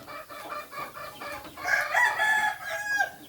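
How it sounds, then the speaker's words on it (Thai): Laying hens cluck and squawk over one another at feeding time in a farmyard, a busy, continuous chatter of fowl at moderate volume with no talking. "แล้วก็จะให้อาหารไก่ไข่นะครับ"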